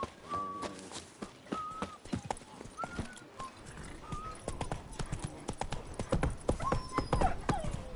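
Horse hooves clip-clop in a steady walking rhythm in The Witcher video game, close and clear, with scattered whistle-like tones and a voice briefly heard over the hoofbeats.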